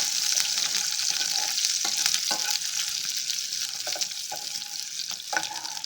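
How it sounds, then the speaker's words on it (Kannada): Two dried red chillies fry in oil over a low flame, giving a steady close sizzle with occasional scrapes and taps of a spoon stirring them in the pan. "2 ಒಣಮೆಣಸಿನಕಾಯಿ ಹಾಕ್ಕೊಳ್ತಾ ಇದ್ದೀನಿ. ಫ್ರೈ ಮಾಡ್ತಾ ಇದ್ದೀನಿ."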